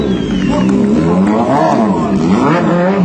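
A motorcycle engine held through a long wheelie stunt, its note swooping up and down in loud, close revs with a rough, growling edge.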